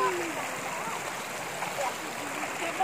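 Forest stream in Alas Watuagung with steady water flowing and gurgling, a soft continuous wash heard close by without pause.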